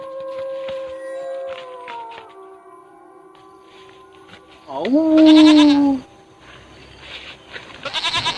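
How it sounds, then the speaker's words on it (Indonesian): A single loud, quavering goat bleat sounds up close, following a fading tonal wail, with some faint rustling around it. "Suara embe. Banyak di leuweung."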